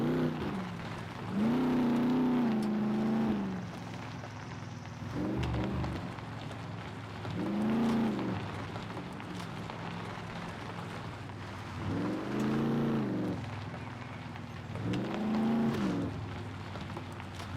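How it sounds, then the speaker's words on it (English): A truck drives in the video game SCUM, its engine rising and falling in repeated revving swells over a low steady hum, with no voices. "These trucks in SCUM are actually quite nice to drive about in."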